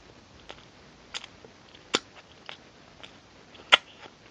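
Crisp bites and crunchy chewing on a Fresh Berry snack, a handful of sharp close-up crunches spaced irregularly over a quiet background, with one loud bite near the end.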